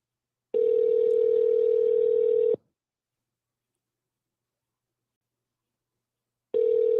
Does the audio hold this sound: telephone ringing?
yes